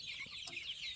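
Chickens clucking softly at close range during a session of hypnotizing and medicating birds, a steady low murmur of fowl sounds with one brief sharper cluck midway.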